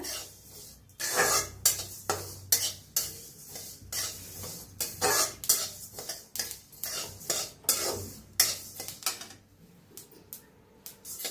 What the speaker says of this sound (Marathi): तीळ चांगलं भाजून घेऊया, तीळ लगेच भाजतात।